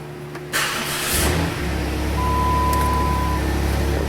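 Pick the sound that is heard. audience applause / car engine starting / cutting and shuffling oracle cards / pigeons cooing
car engine starting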